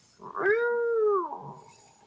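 A calico cat, unhappy at being picked up, lets out one long, loud, complaining meow that rises and then slides down, heard up close with no talking.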